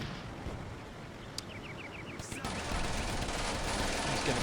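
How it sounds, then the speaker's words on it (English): Machine gun fire in the World War II strategy game Combat Mission: Barbarossa to Berlin, a fusillade of rapid, faint bursts heard through background battle noise and wind, with a short chattering run mid-clip and a denser rumble building toward the end. "Who's shooting? Oh my god, the machine gunner is trying to shoot down."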